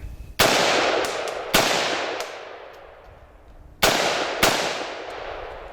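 Four loud, sharp gunshots from a Smith & Wesson M&P15 Sport II AR-15 rifle firing steel case ammunition, spaced irregularly. Each crack is followed by a long, fading echo.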